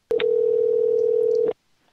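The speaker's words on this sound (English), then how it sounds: "Yeah, I'm gonna call again." A telephone dial tone sounds while calling a restaurant, one loud steady tone lasting about a second and a half, then cut off into silence.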